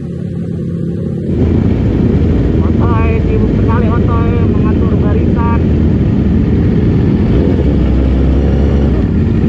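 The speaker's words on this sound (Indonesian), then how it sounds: "Dan ini bakalan gua geber nih bocil." A Yamaha R6 sport motorcycle engine is revved hard outdoors, its loud, continuous roar starting abruptly and holding steady, with voices talking and shouting over it.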